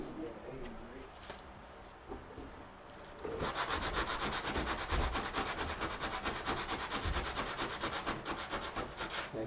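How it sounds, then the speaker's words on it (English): Hand sanding with 80 grit sandpaper during an evening drone build: a steady scratchy rubbing that turns faster and louder midway into continuous rhythmic strokes, close up, with no talking. "If you had 80 grit sandpaper, this is a lot faster"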